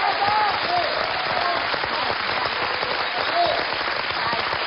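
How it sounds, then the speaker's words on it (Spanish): Studio audience applause on a Spanish television show, a dense steady wash of clapping filling the whole stretch at even loudness, with faint voices and whistles mixed underneath. "os pido un fuerte aplauso para ella"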